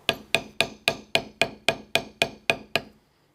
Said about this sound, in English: We're going to go ahead and bevel that inside line towards our deco cuts.